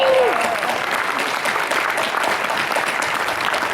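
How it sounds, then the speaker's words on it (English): An audience at a Megaplex convention Jeopardy! event claps in sustained, dense applause that holds steady at full volume throughout, with a brief voice at the very start. "Let's give him some applause too."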